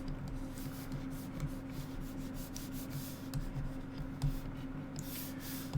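Pencil sketching on paper, soft steady scratching and rubbing strokes up close with a low background hum, quiet and without talk.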